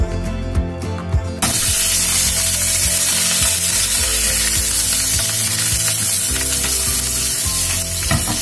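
Curry leaves dropped into hot oil with green chilies for a dahi baingan lunch, a sudden loud crackling sizzle bursting in after a quiet start and spitting steadily throughout.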